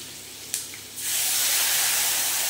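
Spices temper in Amul butter in a pan for a chicken dish: a small click, then a loud, steady, bright hiss of sizzling that starts abruptly and carries on without break, with no voices.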